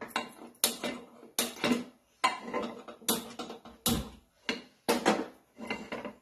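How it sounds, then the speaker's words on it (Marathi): An appe pan knocks and clatters against a hard surface about eight times in an even rhythm, each sharp metallic thud close and fairly loud, with short quiet gaps between them and no voices. "आता आपण आप्पे करायला या ठिकाणी मी आप्याचा तवा घेतलेला आहे."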